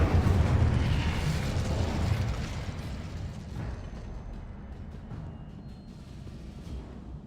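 An Incendio fire spell cast in the Hogwarts Legacy video game, a loud roaring whoosh of flame that starts strong and slowly fades into a crackling, rumbling tail, with no voices.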